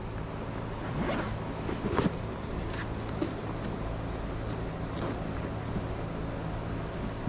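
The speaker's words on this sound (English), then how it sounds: "Okay, the zipper has gotten something on it to where it won't open." A zipper on an Outdoor Gourmet item is tugged repeatedly in short rasping pulls, the zip jammed and caught on something like paint, against a steady low background hum.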